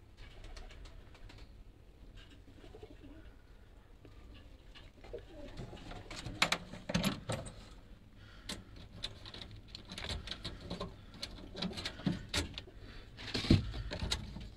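Pure Kasuri pigeons coo in a loft among other pigeons, with soft repeated coos, wing flutters and scattered clicks at close range, growing busier midway.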